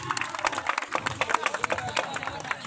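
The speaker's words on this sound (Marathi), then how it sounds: "सगळ्यांनी टाळ्या वाजवतात" Spectators at a village kabaddi match in Satara clap in a quick, uneven patter of many hands, fairly close, with a crowd murmur and voices underneath.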